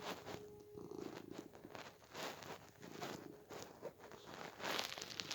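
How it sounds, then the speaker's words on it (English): A kitten purrs close to the microphone in a soft, rhythmic rumble that rises and falls with each breath, alone without talk. "He is the master purr, though. He purrs all the time"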